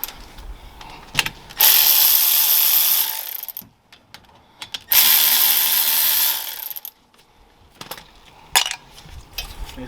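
An electric ratchet whirs in two long, loud bursts of roughly two seconds each, with short clicks and handling knocks between them, working a brake caliper bolt on a 2004–2009 second-generation Toyota Prius.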